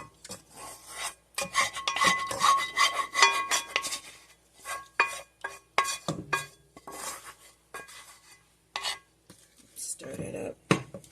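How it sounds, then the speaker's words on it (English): A spoon stirs bread dough in a bowl with rough scraping and rubbing bursts, close and irregular with short pauses, the mixture grating against the bowl's sides. "Stir that up."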